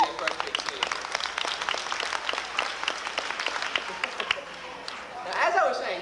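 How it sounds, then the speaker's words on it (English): A crowd applauding with brisk, dense clapping that holds steady for several seconds, then fades as a voice begins to speak. "give the engineers a big round of applause"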